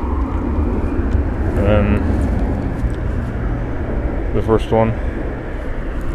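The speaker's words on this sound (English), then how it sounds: "And there's a plane flying over." Broad, steady roar of an airplane passing overhead outdoors, continuous throughout, with a person talking briefly over it.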